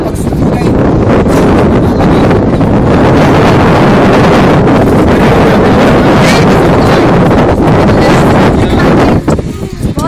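Strong wind buffets the microphone in a constant loud roar at an outdoor bonfire, with faint voices barely audible beneath it.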